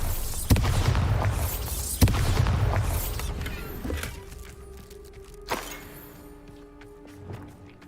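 Bombarda spell blasts in Hogwarts Legacy: two heavy booming explosions in quick succession with rumbling debris, then a smaller thud and fading crackle as the noise settles.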